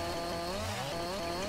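Chainsaw cutting trees in the video game Farming Simulator 19, a loud continuous buzzing engine drone with a pitch that rises and falls, close and steady over a brief moment.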